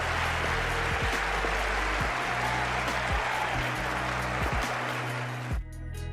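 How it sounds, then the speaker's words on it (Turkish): Stadium crowd applause in the football game EA FC 26, a dense, steady wash of clapping and cheering throughout, loud and unbroken with low music underneath, cutting off abruptly near the end. "Herkes Holse'yi şöyle bir alkışladı."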